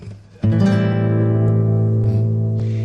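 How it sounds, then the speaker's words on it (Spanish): A single sustained minor seventh chord is struck and left to ring out, rich and mellow with slowly decaying tones, played alone. "Que se llama menor 7, que suena así."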